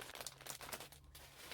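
Quiet crinkling of a plastic bag handled close up while craft supplies are put back into a container, a soft rustling texture with small irregular crackles.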